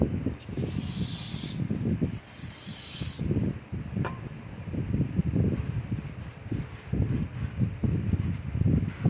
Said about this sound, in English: Next, we're going to clean those shoes up a little bit.